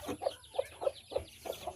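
Hen with a small brood of chicks, clucking in a quick, close series of about six soft rhythmic clucks with faint peeping between them.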